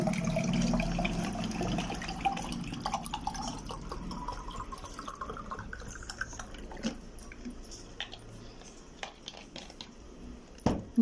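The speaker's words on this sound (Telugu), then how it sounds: "చల్లటి నీళ్ళండి." Cold water runs and splashes into a container for lemon juice, a continuous close pour that slowly thins and ends in scattered drips.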